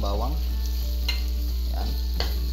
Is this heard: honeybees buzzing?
no